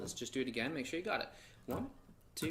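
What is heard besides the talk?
None of the usual background noises is heard.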